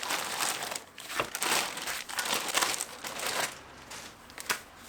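Packaging around six diesel fuel injectors is unwrapped with close, loud crinkling and rustling of plastic in irregular bursts, alone with no talk.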